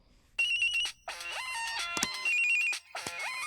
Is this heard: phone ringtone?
yes